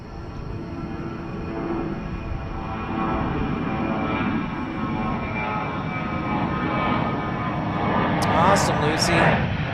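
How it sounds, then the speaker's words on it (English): An Airbus A321 jet departs DFW airport, a broad, steady engine roar that builds slowly, with background chatter and a few sharp clicks near the end. "check out this A321 departing"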